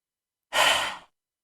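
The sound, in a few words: cleansing breath exhaled during a yoga breathing exercise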